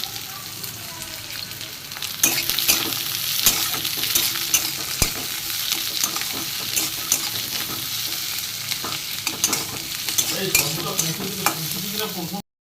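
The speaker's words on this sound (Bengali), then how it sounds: "রসুন, পেঁয়াজ, কাঁচা লঙ্কা একসাথে আমি মশলাটা একটু ভেজে নিই ভালো করে।" Garlic, onion and green chilli fry in a pan with a steady, close sizzle, broken by repeated stirring and scraping strokes of a utensil against the pan.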